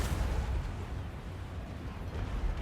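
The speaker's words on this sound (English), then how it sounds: "Rockgar firing off his laser cannon arm." Laser cannon arm firing in the video game Total War: Warhammer 2, a series of deep, booming blasts over rumbling battle noise, moderately loud with several heavy thumps across the clip.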